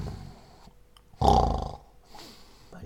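A voice imitates a deep, rumbling snore: one loud, rough snort in the middle, with quieter breathy sounds before and after.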